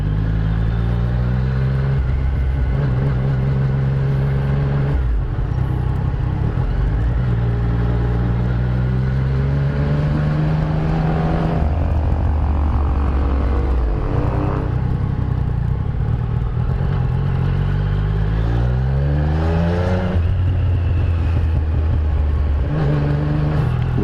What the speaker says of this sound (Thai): จะลองทดสอบว่าการขับขี่ในเมือง ของ SR 900 นะครับ ขับง่ายขนาดไหน